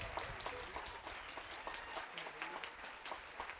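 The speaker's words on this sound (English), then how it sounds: "Clap at any time." Audience applause fills a commencement ceremony hall, a dense steady patter of many hands clapping at moderate distance throughout, with no voices standing out.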